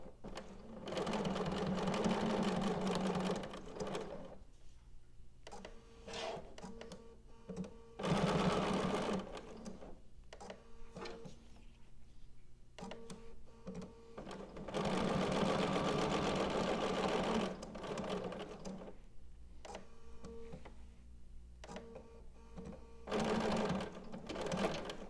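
Sewing machine stitching a wrist pincushion close to the fabric edge, running in bursts of several seconds separated by pauses, close and moderately loud.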